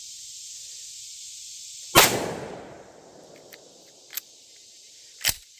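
.44 Magnum gunshot with a rated velocity of 1,310 feet per second fired outdoors: one loud sharp crack with a lingering echoing tail, followed by a few faint clicks.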